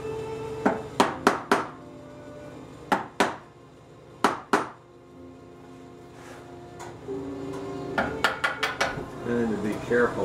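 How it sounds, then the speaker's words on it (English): Sharp wooden knocks from a chisel struck by a mallet, chopping out dovetail pins, in quick bursts of two and three blows with pauses between, close by. "So I'm chopping out the pins now."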